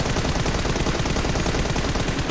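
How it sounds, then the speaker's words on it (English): Rapid, dense gunfire bursts from a PUBG Mobile competitive match, loud and continuous automatic-weapon shots rattling without pause. "They heard all the gunshots"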